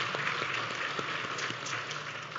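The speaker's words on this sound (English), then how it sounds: "We'll give her a round of applause in absentia" A church congregation at a Palm Sunday service applauding steadily, a moderate, even patter of many hands at a middling distance.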